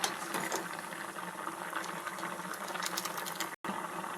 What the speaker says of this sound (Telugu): ఇంకా ఇది బాయిల్ అయిపోయింది ఫ్రెండ్స్.